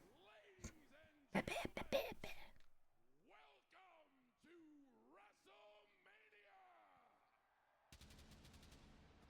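Fireworks go off at a WWE WrestleMania wrestling event in sharp crackling, popping bursts, first a dense burst early on and then another steady crackle at the end, with someone talking in between.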